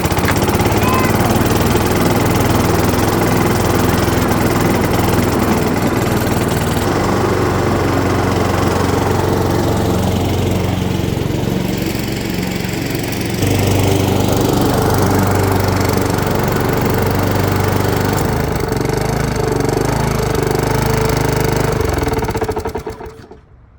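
A Honda lawn mower engine runs steadily at close range, a loud continuous drone that dips briefly midway, then recovers and cuts off at the end.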